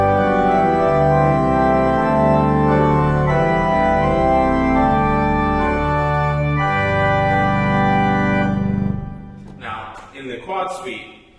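A big sustained pipe organ chord with a very low 32-foot stop, thick and loud with layered harmonics and shifting chord changes, ending with a fading release into room echo.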